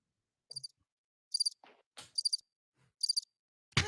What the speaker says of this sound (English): Crickets when I asked that question.